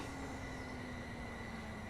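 Train running in Train Simulator Classic, a Japanese route: a steady rolling rumble with a sustained low hum and faint high whine, constant and moderately quiet throughout.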